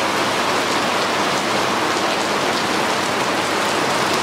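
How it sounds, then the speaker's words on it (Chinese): A heavy downpour roars as a dense, loud and unbroken wash of rain hitting surfaces close by. It stays constant for the whole stretch, with no voices. "倾盆大雨了，现在是下着大雨"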